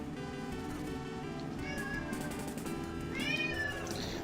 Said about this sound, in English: A cat distracted me and now I'm gone.